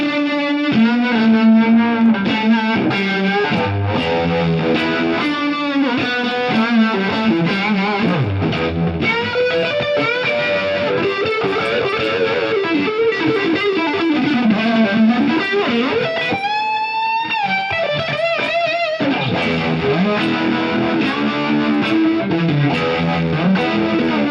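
Distorted electric guitar through a boosted amp channel plays a continuous melodic riff with bends and sustained notes, thick and overdriven, with no talking.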